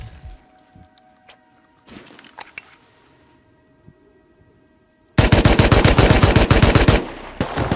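Gunfire in the game Rust opens with scattered distant shots, then a loud, rapid automatic burst of fast, evenly spaced shots crackles for several seconds.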